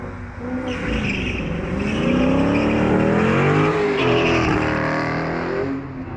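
A Mopar car's engine roars at high revs during a burnout at a car show while tires squeal and hiss continuously, loud and close, holding for several seconds.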